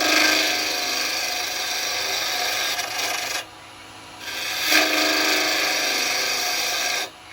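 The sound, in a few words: woodturning with a round carbide chisel on a lathe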